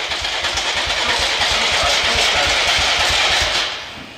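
A cheap, budget quad ATV engine runs at a steady, loud idle close by, with a fast low pulsing throb and broad mechanical noise, easing off slightly at the very end.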